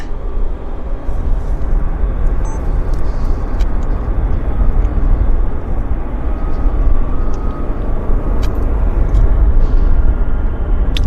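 A CRJ regional jet landing at Vancouver airport, heard as a steady, loud broadband roar that holds evenly throughout without breaks.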